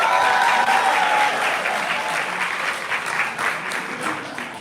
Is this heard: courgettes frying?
no